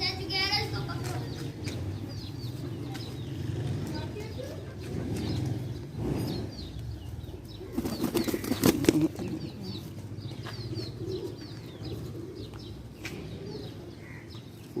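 Pigeon wings flap in quick bursts over a low, busy background, with cooing and voices talking nearby throughout.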